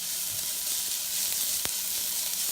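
Finely chopped garlic softening with onions in a hot pan, giving a steady soft hiss of frying with one sharp tap partway through and no voices.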